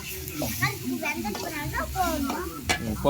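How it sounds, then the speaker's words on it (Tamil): Chicken curry with a leg piece being stirred in a sizzling pan, with close scraping strokes and a frying hiss while voices talk over it. "கிண்டுன்னு கிண்டுறாங்க"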